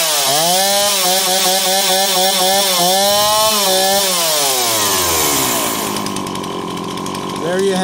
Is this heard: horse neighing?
no